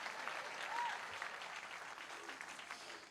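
Faint, thin clapping from a small part of the audience at a Grand Ole Opry preshow, distant and scattered beneath a low room murmur.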